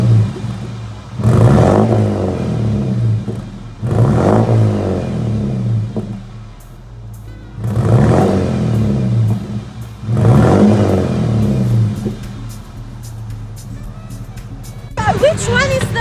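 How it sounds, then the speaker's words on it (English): A BMW 320i with its muffler deleted revs in four loud bursts separated by idle pauses, each rising and falling with a raspy exhaust bark. "Let's hear how the car sounds with muffle delete."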